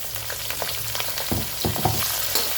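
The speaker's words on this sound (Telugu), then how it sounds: "పచ్చి వాసన పోయే వరకు బాగా ఫ్రై చేసుకోవాలి." Onion, green chillies and curry leaves fry in a pan with a dense, continuous sizzle, broken by a few soft scraping stirs near the end.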